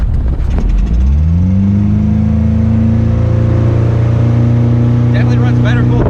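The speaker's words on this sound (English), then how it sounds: "definitely runs better full throttle than it did in idle" A 1989 OMC Cobra 2.3L boat engine fitted with a Pertronix Ignitor II ignition revs up from a rough idle to a loud, steady high-throttle drone held close by, with brief voices near the end.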